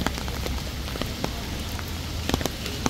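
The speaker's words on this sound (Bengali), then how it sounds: "এই বৃষ্টিতে আমি দাঁড়িয়ে আছি" Steady rain pours down by the Ganges at Chandannagar, a dense hiss with scattered sharper drops tapping nearby; no voices.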